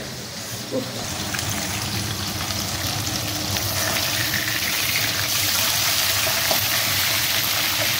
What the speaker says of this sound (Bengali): তো চলো মাছটা ভেজে নেওয়া যায়।